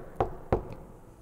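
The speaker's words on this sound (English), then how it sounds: "someone is knocking" Two sharp knocks on a door, about a third of a second apart, close and fairly loud with quiet room tone after.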